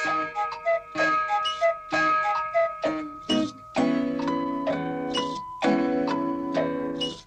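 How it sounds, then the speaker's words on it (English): Several clocks going off together, bright chimes and bell tones ringing over quick ticking, a dense, close and loud mix of overlapping strikes with no talk. "All of them chiming or whirring or clicking, cuckooing or ringing or tick-tock ticking."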